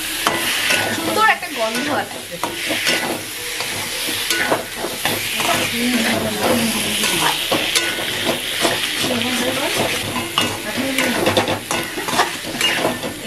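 Shahi garam masala and spices are stirred and fried in a pan, giving a continuous sizzle broken by scraping stirs, while someone talks over the cooking.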